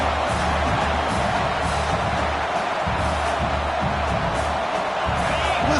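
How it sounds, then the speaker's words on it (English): Stadium crowd at a football game roaring steadily early in the contest, a dense, continuous wash of cheering and whooping that stays loud and unbroken from start to finish with no single voice standing out. "Listen to the crowd energy here in the early going."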